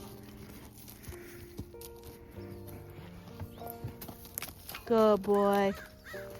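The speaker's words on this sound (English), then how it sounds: "And then I got the big horses just being chill." Horses walking in on a farm, a few scattered hoof clops under a person talking gently to the animals and a whistled call, with quiet barnyard background.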